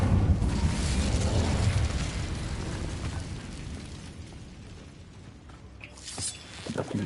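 A fire spell cast in a wizard video game gives a loud, roaring burst of flame that slowly fades, with a few sharp pops near the end.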